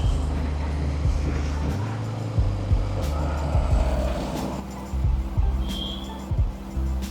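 Royal Enfield Meteor 350 motorcycle cruising in fifth gear on a highway, steady low engine drone with wind rumble and occasional bumps, moderately loud throughout.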